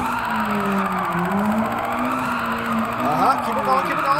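A 200hp Nissan S13 with an angle kit drifts in Gran Turismo 7, loud continuous tire squeal with wavering pitch over engine drone, with a voice talking underneath.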